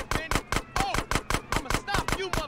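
Rapid gunfire from GTA San Andreas, a steady string of about a dozen sharp, evenly spaced shots with short ringing tails, loud and close throughout.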